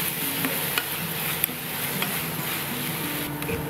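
Kimchi fried rice mixture with sugar stirred in a pan, a soft continuous sizzle with occasional light scrapes and taps of the utensil, quiet and close.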